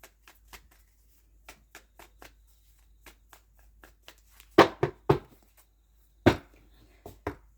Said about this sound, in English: Bit of a shuffle.